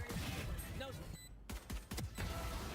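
Gunshots in a Valorant esports match: a loud, close cluster of sharp shots in the second half, after busy game noise, with a commentator's voice underneath.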